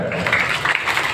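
A brief burst of audience clapping welcomes a female Bhagavat Katha reciter from Vrindavan at an honoring ceremony, with dense, fairly close hand claps over a low murmur.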